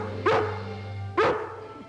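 A collie dog, Lassie from the 1950s TV series, barks twice in sharp, loud, close yelps about a second apart over a steady low background hum.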